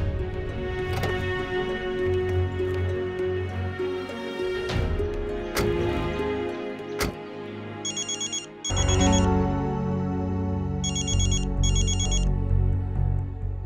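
A mobile phone rings with an incoming call: a melodic ringtone plays continuously, with bright repeating chime patterns layered in near the end and no voices over it.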